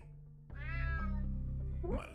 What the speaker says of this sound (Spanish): Maldito gato.